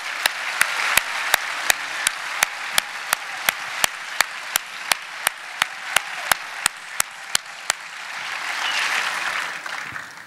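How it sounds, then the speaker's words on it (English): Audience clapping along at an award ceremony, a steady rhythm of sharp, evenly spaced claps that stops, leaving a soft crowd murmur. "we need to give him a round of applause for the first one."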